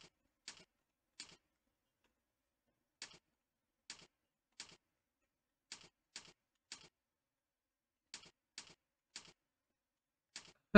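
Computer keyboard typing with the hands on the home keys, sparse isolated key clicks spaced irregularly with long silent gaps, faint and close.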